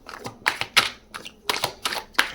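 Tarot cards being shuffled by hand, a run of crisp riffling clicks and snaps in short bursts, close and fairly quiet, with no talk.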